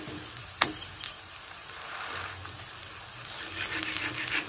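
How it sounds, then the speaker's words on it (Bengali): Pumpkin fritters fry in oil over a lowered flame, with a soft continuous sizzle and occasional pops and crackles, close and fairly quiet. "আর উনুনের আঁচটাকে কমিয়ে ভালো করে এটাকে লাল লাল করে ভেজে নিই।"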